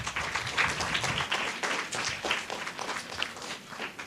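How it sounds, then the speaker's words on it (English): Applause for a young speller at a primary school spelling bee in St. Lucia, a steady crowd clapping dense and fairly near for about four seconds, with no talk over it. "A round of applause for Kyle."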